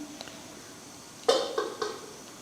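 A lid comes off a pot of cooking shark fish puttu, a quiet clatter then a couple of lighter metallic knocks after a near-silent start.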